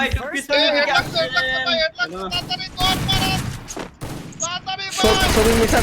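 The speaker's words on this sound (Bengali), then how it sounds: "স্নাইপার মারতেছে ভাই স্নাইপার" Sniper and gun fire crack in a shooter video game, several sharp bursts scattered beneath loud, excited talking that dominates throughout.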